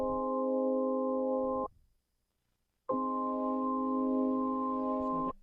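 A sustained organ chord from a Roland Jupiter-Xm synthesizer, layered with its C456 pink noise PCM waveform for a hissy texture, played twice with a short silent gap between the two held notes.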